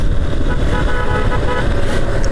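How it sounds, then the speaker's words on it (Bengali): A loud, sustained vehicle horn blares continuously over road noise and engine rumble on the Dhamrai–Kaliakair road, close and steady for the whole stretch. "এটা হাইওয়ের জন্য ঠিক আছে হর্নটা"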